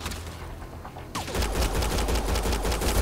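Burst of gunfire from the Mass Effect Andromeda video game, starting after a quieter first second, then a dense run of rapid shots and impacts that holds loud and steady to the end, with no talking.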